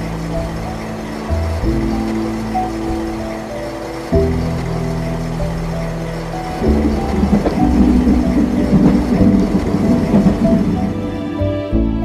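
Miniature diorama model train KA 220 departing a station, a steady mechanical hum with shifting motor tones and light rhythmic rail clatter building slightly louder, heard alone with no talk.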